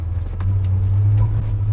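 A heavy long-bed truck with a swapped Ford Coyote V8 cruising, a deep, steady low engine rumble close by with no talk.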